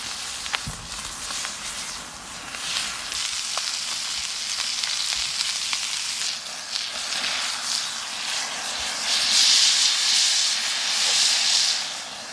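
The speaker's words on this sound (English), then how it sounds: "we are now going to put these on the skillet right now" Food sizzling in an olive-oiled skillet inside an Airstream trailer, a steady close hiss and crackle that swells slightly toward the end, with no talking.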